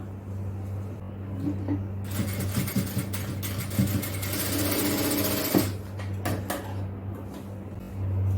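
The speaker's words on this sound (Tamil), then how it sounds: "இந்த எண்டில் ஒரு டம்மி தையல் இதில் மட்டும் போடலாம்" A sewing machine runs a dummy stitch along the edge of a fabric piece, its fast mechanical whir speeding up in the middle over a steady motor hum, close by and with no talk.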